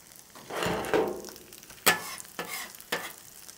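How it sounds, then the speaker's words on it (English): Sausage shallow fries in a touch of oil on a Blackstone griddle, soft sizzling with a few sharp bursts of spatter and scraping, close, brief and without talk. "just adding a touch of oil for that shallow fry"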